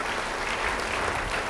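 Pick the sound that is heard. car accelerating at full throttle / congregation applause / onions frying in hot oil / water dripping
congregation applause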